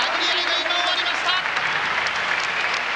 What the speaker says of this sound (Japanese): 場内は大歓声、マーク・ハントへの大歓声です